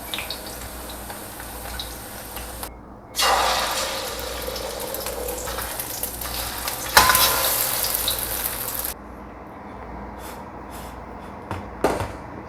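Tempeh and an egg frying in a pan of hot oil, giving a steady hiss that swells into loud, sustained sizzling for several seconds, then drops back with a few sharp pops near the end; no one talks.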